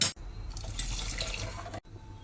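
Water pours steadily into a cooking pot of amla (Indian gooseberry) for over a second, a continuous splashing rush that stops abruptly, with faint clatter before and after.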